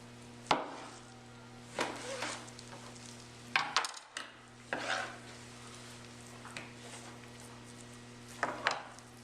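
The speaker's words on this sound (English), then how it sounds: "we're going to cut across the grain into our steaks" A knife cuts a top sirloin into steaks across the grain, giving about eight irregular, close strokes and knocks on a cutting board with quiet pauses between.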